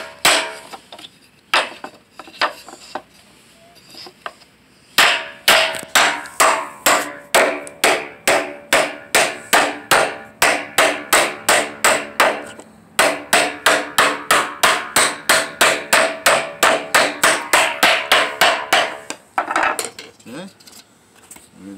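A hammer taps wooden pegs on a DIY penny hockey board, a long run of sharp, evenly paced knocks in two extended bursts separated by a short pause, loud and close.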